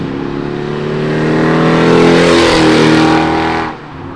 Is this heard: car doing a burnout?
yes